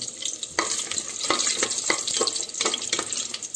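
Whole spices (cloves, cinnamon, cardamom and bay leaves) sauté in a pan for chicken biryani, giving a steady close sizzle broken by frequent scraping stir strokes, with no talking.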